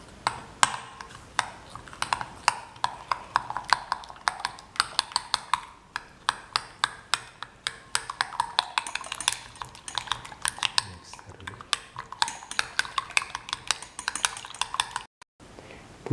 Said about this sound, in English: mix all the ingredients to make the batter.